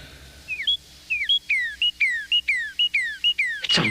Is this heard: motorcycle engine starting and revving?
no